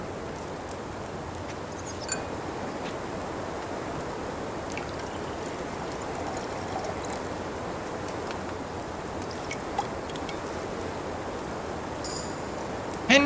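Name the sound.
pouring liquid during alchemy in Kingdom Come Deliverance II video game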